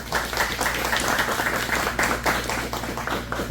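An audience applauds a lecture speaker at a university evening talk, a steady round of many hands clapping at moderate loudness that keeps its pace for several seconds with no talk.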